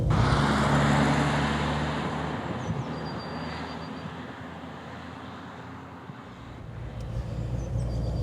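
A Renault 4 GTL car drives along the road with a steady low engine drone and broadband road and wind rumble heard from inside the cabin, continuous and fairly loud throughout.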